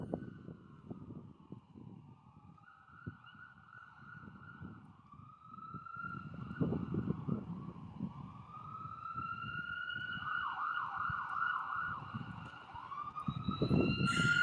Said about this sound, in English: you can hear the sirens behind me